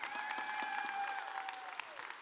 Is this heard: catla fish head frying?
no